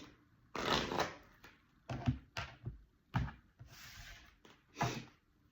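A deck of tarot cards is cut and shuffled by hand, giving a series of separate riffling and slapping bursts with short pauses between them, close and fairly loud, with no talk.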